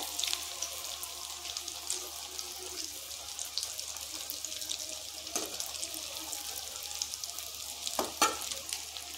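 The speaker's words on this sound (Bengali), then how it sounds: "সাবধানে নাড়াচাড়া করব যাতে এটা ভেঙে না যায়।" Potato pakoras frying in hot oil while being gently stirred, a continuous close sizzle and bubbling with a couple of sharp utensil clinks near the end.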